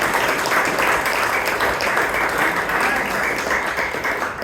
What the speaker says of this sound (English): So please give a big round of applause to Bangalore Toastmasters.